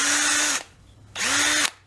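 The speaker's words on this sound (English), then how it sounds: "I'm just going to drill" A power drill bores a hole through a strip of pan gasket during snow blower repair, running in two close, loud bursts of about half a second each with a short pause between them and no talk.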